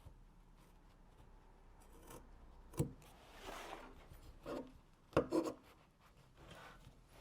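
Scissors snipping diagonal cuts into denim fabric at the corner of a workwear jacket, a few separate crisp cuts with some rubbing and handling of the cloth between them, quiet and close, no speech.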